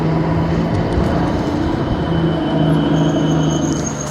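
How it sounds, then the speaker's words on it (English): A passing train rolls by steadily and loudly, a continuous rumble with sustained tonal hums and a faint high squeal near the end, heard up close with no talk. "Let's see, train coming."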